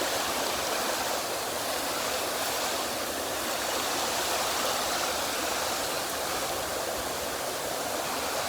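A waterfall and stream rush continuously, a dense, loud, unbroken roar of flowing water close by, with no voices over it.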